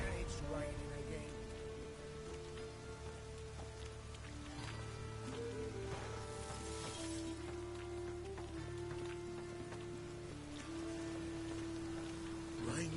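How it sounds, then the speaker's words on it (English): Steady rain in The Witcher 3 falls as a constant broadband hiss across the whole span, with game music and tonal ambience running underneath. "It's raining again."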